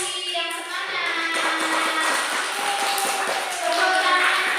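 A room of children claps again in a lively, scattered burst, while young voices chatter and shout alongside the taps.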